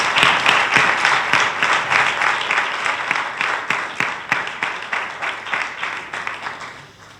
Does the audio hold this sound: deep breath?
no